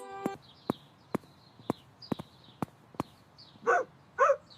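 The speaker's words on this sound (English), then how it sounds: "Why are you barking, little guy?" Two short, sharp barks from a small dog near the end, after a run of evenly spaced light clicks like footsteps or hooves on a hard surface.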